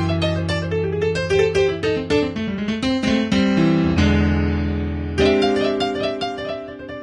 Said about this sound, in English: Now, blues riffs are just groups of notes that sound cool together